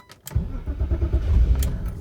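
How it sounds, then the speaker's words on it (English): A BMW E32 or E34 engine cranks and catches after a couple of clicks, then settles into a loud, close, rumbling idle. "so I'm starting the car now"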